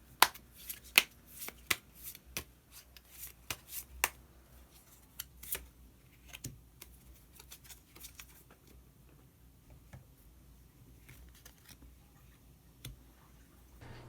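Tarot cards are shuffled and handled alone in a quiet room, a sequence of sharp, dry card snaps and flicks with softer riffling and sliding between them, strongest early and thinning out toward the end.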